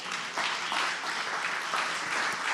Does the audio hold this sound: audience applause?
yes